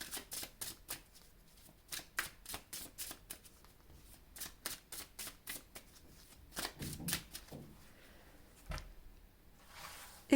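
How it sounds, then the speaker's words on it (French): Tarot cards are laid out one by one on a table, giving a steady run of soft, quick card slaps and slides with brief pauses between, close and fairly quiet. "on va placer les cartes comme ceci"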